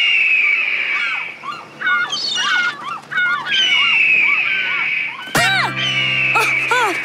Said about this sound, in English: Audrey, play the hawk sound through the polo boat speakers.